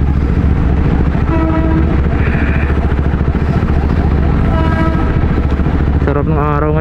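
A train passing close by during a motorcycle ride on C6 in the Philippines, a steady loud rumble under constant engine and wind noise, with a short horn-like tone near the end.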